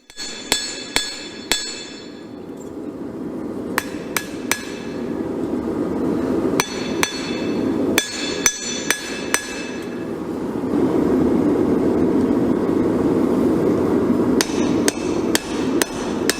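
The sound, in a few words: hammer forging the bevels of a hunting knife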